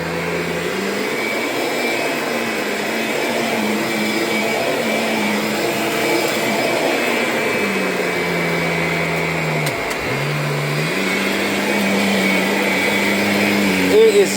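A Kirby Heritage upright vacuum cleaner runs on high speed over carpet, a loud continuous motor whine with a brief dip in pitch as it digs into the pile.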